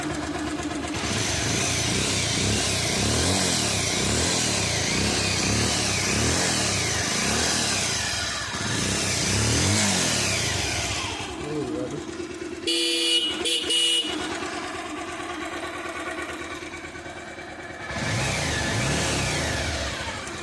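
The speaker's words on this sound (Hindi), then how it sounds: "और गाड़ी होगी फाइनल स्टार्ट।" A Bajaj Pulsar 180 motorcycle, freshly fitted with a new clutch, runs close and loud with repeated revs and brief pauses between bursts.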